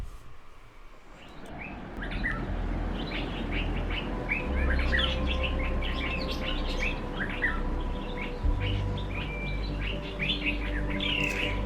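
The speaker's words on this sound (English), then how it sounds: "The next morning I was woken by the tweeting birds" Morning birds tweeting at a campsite in Mozambique, many bright chirps and short calls overlapping over a low steady hum, fairly close and continuous with no talking.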